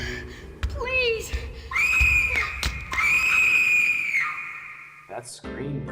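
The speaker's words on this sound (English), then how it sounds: "That scream, though." A drawn-out, high-pitched scream from The 7th Guest horror puzzle game rises sharply and is held for a few seconds, then cuts off, with a brief whistle-like wail at the start and short gasps near the end.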